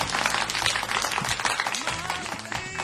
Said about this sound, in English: Let me give you a rousing round of applause.